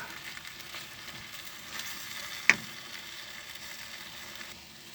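Prawns fry in a hot pan, a quiet even sizzle throughout with one brief sharp click in the middle, no voices.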